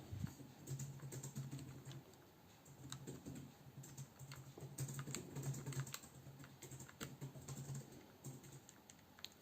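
Quick light presses on calculator buttons while a quadratic formula result is entered, a steady run of close, soft clicks with no talking.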